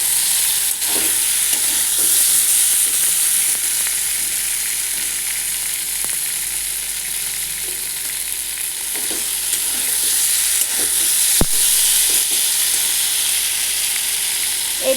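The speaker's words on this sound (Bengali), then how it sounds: "একটু ভেজে নিই" Spices frying in hot oil in a pan for a hing-flavoured vegetarian potato dum, a steady close sizzle with occasional faint stirring clicks throughout.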